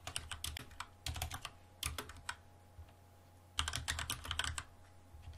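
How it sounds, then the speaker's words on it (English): Rapid clattering keystrokes on a computer keyboard come in several quick bursts separated by short pauses, close and fairly quiet, with a faint steady hum beneath and no talk. "Lots of typing."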